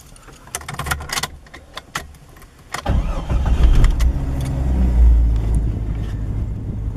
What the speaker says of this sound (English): let me turn the car on.